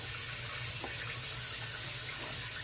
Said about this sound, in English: I'm pouring water in it